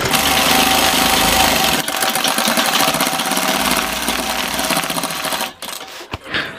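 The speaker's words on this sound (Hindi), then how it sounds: "हम सिलाई को इस तरीके से आगे पीछे कर रहे हैं टाँके से टाँका मिलाकर चला रहे हैं" An electric sewing machine runs back and forth, darning a tear in jeans: a loud, close, continuous mechanical whir with rapid stitching clatter that slows and stops near the end.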